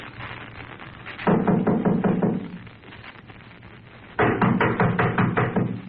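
Police knock on a door in an old-time radio crime drama: two bursts of rapid, loud, close knocking separated by a short pause, with no talk over them.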